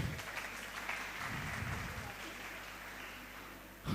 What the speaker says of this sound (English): All the females can clap for this.